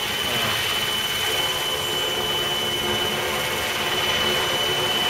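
Electric RC model jet, a TF 800 Seahawk, flying overhead: a continuous, even whooshing rush of ducted-fan noise with a faint high whine, steady and fairly loud for the whole stretch, with no talk.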